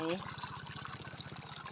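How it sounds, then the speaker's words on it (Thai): Water flows steadily, a continuous pouring rush with a fine trickling texture, close by, with a voice briefly at the start. "โอ้เรามาดูน้ำไหลกันนะคะ"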